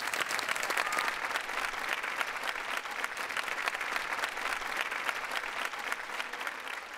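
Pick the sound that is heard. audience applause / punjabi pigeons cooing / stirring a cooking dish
audience applause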